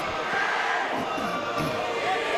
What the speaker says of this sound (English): Those stands filled up quickly, didn't they?